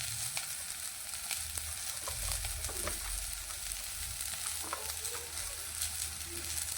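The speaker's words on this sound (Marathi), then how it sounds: "तर याच्यामध्ये आपण अद्रक आणि लसूणही फ्राय करून घेऊया" Ginger and garlic frying in oil alongside browning onion for a village-style chicken curry, a steady close sizzle with occasional stirring scrapes, no voices.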